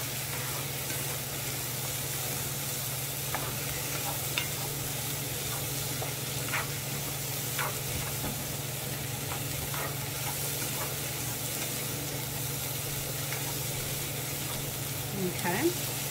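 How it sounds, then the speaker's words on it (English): Minced garlic frying and being stirred in a pan before going into a slow-cooker chicken stew: steady low sizzle throughout, with occasional soft utensil scrapes and taps, close and moderately loud. "Just stir that in, let that cook for about a minute or so."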